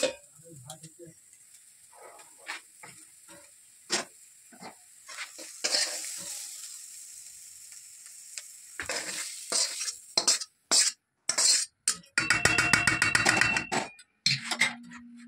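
Fried mixture being stirred into cooked, slightly firm rice in a pan, with scraping, clattering utensil strokes and a soft sizzle, growing busier and louder toward the end.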